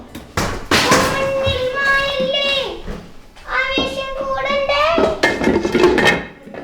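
Metal cooking pots and their lids, including a large uruli-style vessel, clank and scrape as they are handled at close range, the clatter mixing with steady talk throughout.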